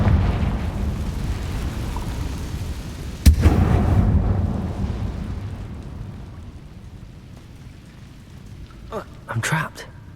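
A single heavy blast from the Confringo fire spell in Hogwarts Legacy, a sharp crack followed by a long rumbling roar that slowly fades, with brief muffled voice sounds near the end.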